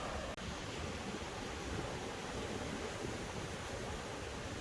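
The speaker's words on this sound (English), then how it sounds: "watched the waves roll in from the rough seas" Rough waves roll onto the Green Bay shore in Door County, Wisconsin, on a very windy day, heard as a faint, steady, broad wash of surf with no voices.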